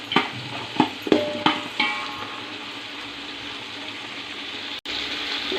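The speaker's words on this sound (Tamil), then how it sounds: "எல்லாம் சேர்த்து கொஞ்சம் நேரம் வதக்கட்டும்." Eggplant and other vegetables sautéing in a pan, several scraping clacks of stirring in the first couple of seconds, then a soft, even sizzle with a brief drop near the end, no speech.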